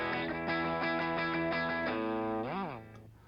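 Electric guitar through a Double Dragon distortion pedal in GarageBand: a run of gritty, saturated chords and notes in a steady rhythm, ending in a bent, wavering note that fades out.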